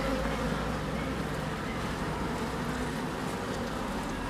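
Honeybees flying around the hives at an apiary on their first warm day after a cold spell, a continuous dense buzzing hum that stays steady and close, with no talk.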